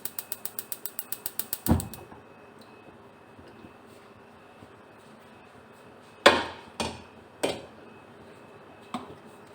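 A kitchen gas stove's igniter rattles off a rapid run of clicks before the flame catches with a soft whoosh. A few louder clanks of cookware follow in a quiet room.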